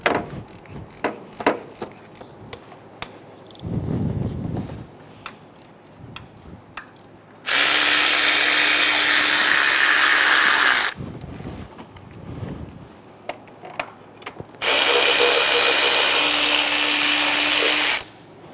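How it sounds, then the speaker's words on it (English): An impact gun with a 10mm socket loosens lower timing cover bolts on a 2003-2007 Honda Accord, running in two long, loud bursts of about three seconds each, with clinks and tool handling before and between. "I'm going to use a 10mm socket to remove all of the bolts for the lower timing cover."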